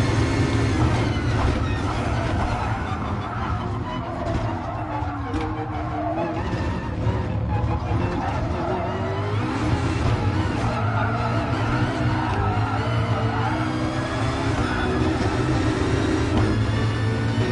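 An electric race car in Gran Turismo Sport on the Nordschleife gives off a steady, loud driving roar with rising and falling tonal whine and tire noise, sustained without a break.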